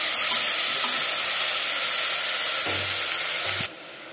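Onions and tomatoes for a restaurant-style mutton curry sizzle in a pan with a loud, dense, continuous hiss that stays close and steady, broken near the end by a few low stirring knocks before it cuts off abruptly.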